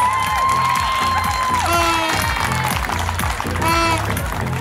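Audience applause and cheering for a youth football player announced at a mini World Cup awards ceremony, a steady crowd wash over loud music with a tonal melody throughout.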